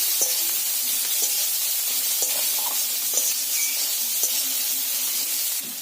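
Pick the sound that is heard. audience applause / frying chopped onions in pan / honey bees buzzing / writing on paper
frying chopped onions in pan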